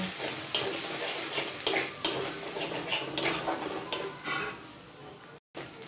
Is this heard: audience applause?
no